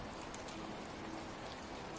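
Steady rain pattering on rainforest leaves, a dense, even hiss of countless drops close by, unbroken and with no voices.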